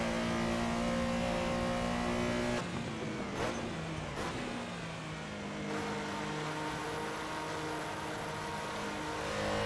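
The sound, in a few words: Porsche Carrera engine in video game Assetto Corsa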